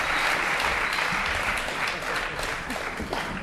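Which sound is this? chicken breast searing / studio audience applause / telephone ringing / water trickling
studio audience applause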